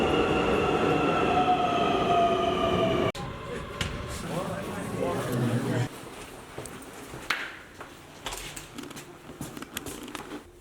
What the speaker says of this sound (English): we're gonna take a train from the airport into the city to our hostel